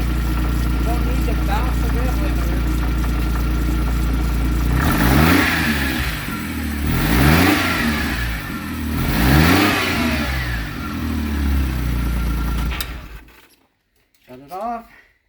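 A Kawasaki Mule UTV engine idles loudly, then revs three times in rising and falling surges before shutting off, followed by brief talk.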